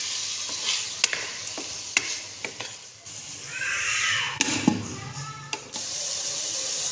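Beef pieces sizzle and are stirred for karahi in a pan, with repeated sharp scraping clicks from a spoon against the metal over a steady frying hiss, close and moderately loud.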